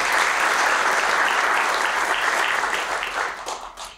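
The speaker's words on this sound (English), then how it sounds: "Please give him a round of applause." An audience at a city's State of the City address claps warmly, steady applause that holds strong and then thins and fades toward the end.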